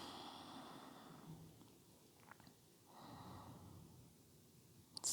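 Slow, deep yoga breathing, with two long audible exhales drawn out through the nose, soft and close in a quiet room, with no talking.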